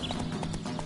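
Horse hooves clip-clop at a gallop in The Witcher III, a quick run of rhythmic hoofbeats over steady ambient game sound, close and fairly loud.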